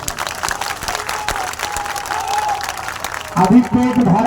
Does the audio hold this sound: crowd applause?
yes